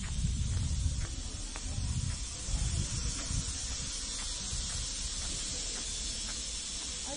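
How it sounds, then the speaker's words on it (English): An industrial peanut frying machine in a nut processing factory gives a steady, broadband hiss, with low rumbling pulses early on and a constant machine roar throughout, no voices. "Now let us to see the nuts processing machines, frying, peanut frying machine, and the broad bean frying machine."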